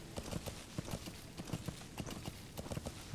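Horse hooves clip-clop in Metal Gear Solid V, a quick, regular rhythm of sharp hoof strikes heard up close and moderately loud, with no talking.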